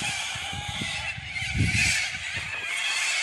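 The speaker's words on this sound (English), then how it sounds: "if you can hear me over the birds" Geese honk repeatedly beside the Hindmarsh River at the start of a trail, loud nearby calls in irregular bursts over an outdoor background.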